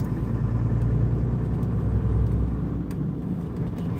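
A Volvo truck engine rumbles steadily at close range, a continuous low drone with no talk over it.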